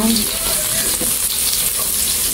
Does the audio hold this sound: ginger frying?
yes